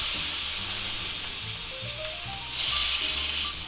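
A thick London broil steak sizzling loudly in a hot pan just after being flipped, a constant close hiss of frying with a brief surge in intensity partway through.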